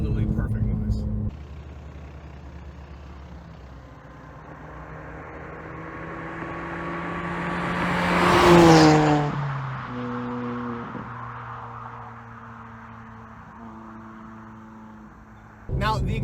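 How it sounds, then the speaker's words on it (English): A 2005 supercharged Mini Cooper accelerates past, its engine and supercharger whine swelling to a peak and fading, followed by a steady idle-like drone, heard from outside with no talking over it. "All that matters are the exhausts, crackles and pops, and that beautiful supercharger one."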